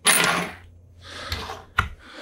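A coin is tossed and drops with a bright ringing clatter at the start, followed by softer rattles and a sharp clink as it settles, close and alone.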